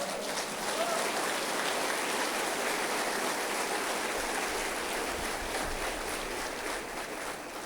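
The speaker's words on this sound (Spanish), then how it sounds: "Denle un aplauso al Señor." Congregation clapping at a church service in sustained applause, a dense steady wash of many hands throughout with no clear gaps, loud and even from start to finish.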